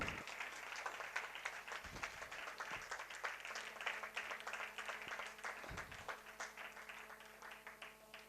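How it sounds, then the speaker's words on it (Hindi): Audience applause at a silver jubilee and award ceremony of the Calcutta Marwari women's committee, steady dense clapping from a hall crowd, fairly faint and sustained, tapering slightly toward the end. "तो तालियां तो बनती है।"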